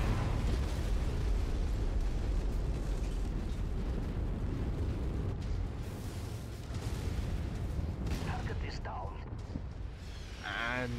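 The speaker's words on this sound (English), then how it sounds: "And there's artillery." Artillery shells burst in MechWarrior 5, a dense, continuous roar of rumbling explosions that stays loud throughout, with a player talking over the din and a brief mechanical whine near the end.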